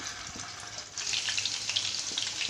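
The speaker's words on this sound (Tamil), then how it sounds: "இப்போ இந்த சிக்கன்லாம் இதில் போட்டு பொரிச்சு எடுத்துக்கலாம்" Marinated chicken pieces for Indo-Chinese dragon chicken drop into hot oil in a pan. A soft bubbling swells into a loud, steady deep-fry sizzle that stays close and continuous.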